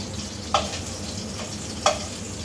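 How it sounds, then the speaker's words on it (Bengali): Fish fries in a pan with a steady, dense sizzle and two brief sharper clicks of utensil on the pan, heard close and alone without talk. "মাছ ভাজা হয়ে গেছে, এখন আমি উঠিয়ে নিচ্ছি।"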